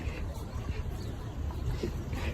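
A water-taxi boat engine drones steadily nearby on Lake Havasu, with water washing around the hull as it pulls up close, continuous and fairly loud.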